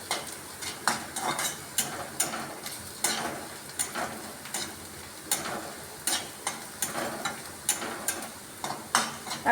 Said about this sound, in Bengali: আমি এই পেঁয়াজ রসুনটা ভেজে নিচ্ছি।